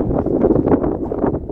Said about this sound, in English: Sorry about the wind. It's all windy.